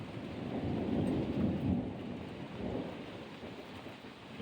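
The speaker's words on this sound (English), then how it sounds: "Just had a little thunderstorm roll over." Thunderstorm passing over an outdoor deck, with a steady wash of rain and a low, rolling rumble of thunder swelling and fading across the whole stretch, fairly close and with no voices.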